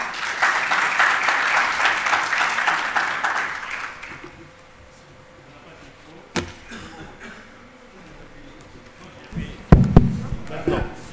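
Audience applause at a talk or conference, a dense wash of clapping for the first four seconds that then dies away into quiet room noise with a few scattered knocks and thumps.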